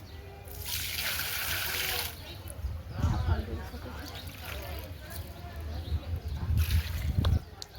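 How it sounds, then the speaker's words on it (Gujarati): Garden plants being watered in the morning, a continuous hiss and splash of running water close by, with a person speaking intermittently over it. "હું બધા ઝાડવાને પાણી પાઈ દઉં"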